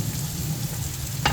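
Chicken samosa filling sizzles in a pan just before the onions go in, a steady close frying hiss with one brief clink near the end.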